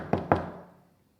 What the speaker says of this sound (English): You hear a knock at the door.